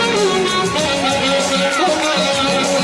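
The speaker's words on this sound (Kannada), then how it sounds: "ಜೋರಾದ ಚಪ್ಪಾಳೆ ಮಕ್ಕಳೇ" Children at a ceremony break into loud, dense applause, a continuous rush of clapping with voices and music-like tones mixed underneath.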